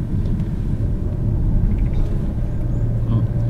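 A jeep drives along a smooth mountain road at high altitude near Leh, with a low, steady engine rumble inside the cabin and someone talking over it.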